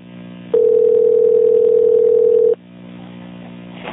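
A steady telephone dial tone sounds loud and alone for about two seconds during the transfer of a 911 emergency call, with a hushed line hiss before and after.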